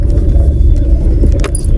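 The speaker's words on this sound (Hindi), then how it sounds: "अब देखो धीरे धीरे धीरे धीरे आप अपने आप देखो गाड़ी आगे बढ़ रही है।" Car creeping forward at idle as the clutch is slowly released with no throttle, a loud steady low engine rumble close by with a faint jingle of keys, no talk.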